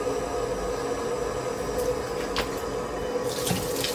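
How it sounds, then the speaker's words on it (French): Running water rinsing a dirty rug, a steady close hiss of tap flow and splashing with no pauses, a few brief sharper splashes near the end. "Fait que je vais rincer ça"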